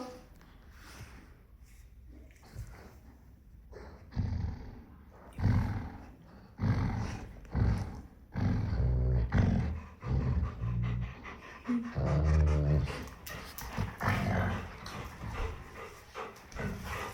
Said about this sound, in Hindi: मेरे घर के दो जंगली कुत्ते आपस में लड़ रहे हैं, जो एक दूसरे को खाली गुर गुर कर रहे हैं